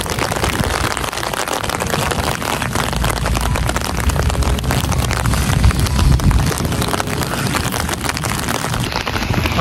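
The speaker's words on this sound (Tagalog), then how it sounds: "Medyo lumalakas yung ulan." Heavy rain during a severe thunderstorm pours down in a dense, continuous hiss of drops striking surfaces, with low wind rumble buffeting the microphone throughout and no speech.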